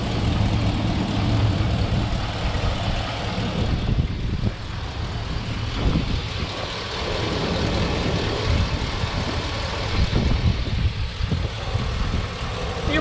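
A truck engine idles steadily with a deep, continuous low rumble, its exhaust manifold leak now repaired; the running sound stays even throughout with no talking.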